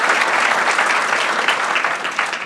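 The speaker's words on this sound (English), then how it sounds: "Give him another round of applause for the commitment," Dense, steady applause from an audience at a bank branch ribbon-cutting ceremony, loud and continuous throughout with no voices above it.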